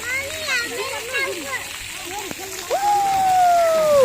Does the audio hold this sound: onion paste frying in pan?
no